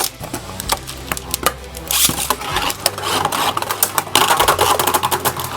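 Beyblade Burst Turbo spinning tops, including Turbo Valtryek, battling in a stadium on slingshot mode: dense rattling clicks and sharp metallic clacks of repeated collisions, steady and close, with a louder burst of impacts toward the end.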